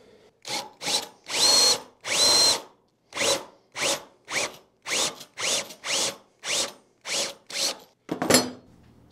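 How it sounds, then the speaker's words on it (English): Power drill boring holes in wooden stair balusters for 7/16 dowels, close and loud, with about a dozen short separate bursts of whirring in a fairly even rhythm and brief silences between them. "We've drilled the balusters for a 7/16 dowel."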